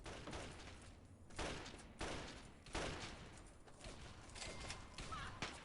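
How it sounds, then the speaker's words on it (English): Gunfire in Fallout 3 crackles in repeated bursts, about five sharp volleys spaced roughly a second apart, faint and distant with a rough, echoing tail. "And I hear gunfire."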